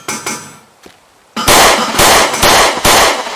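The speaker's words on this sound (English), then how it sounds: "this bomb is rigged to explode when it hits the wall" A bomb explodes against a wall in the Teardown video game, with a series of loud, sharp, crackling bursts in quick succession following a few fainter pops.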